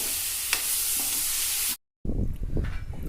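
Tomatoes and onions sauté for chutney, with tamarind added, in a hot pan. A steady sizzling hiss is broken by a brief silent cut, then continues with stirring clatter.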